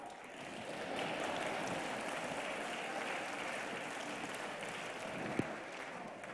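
A congregation claps during a church sermon, a soft, even wash of applause that sounds distant and faint and holds steady throughout.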